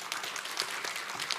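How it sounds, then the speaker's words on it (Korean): Congregation clapping together during a Sunday worship service in a Korean church, a dense, steady patter of many hands filling the room without pause. "우리 하나님 앞에 영광의 박수 한번 드리겠습니다."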